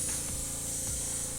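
Spray paint hisses steadily onto small miniature pieces being painted for a Warhammer White Scars army, a close, continuous hiss lasting the whole moment with a few faint rubbing knocks beneath it and no talking.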